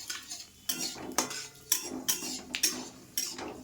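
A spoon scrapes and clinks against a metal pan while dried chilli, cardamom, cloves and cinnamon are stirred, giving about six sharp, evenly spaced strokes, close and fairly quiet, with no talking.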